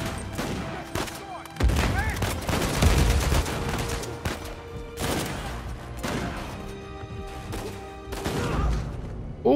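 Rapid bursts of gunfire in the video game Uncharted 4: A Thief's End, repeated volleys recurring across the stretch with someone talking and reacting over them.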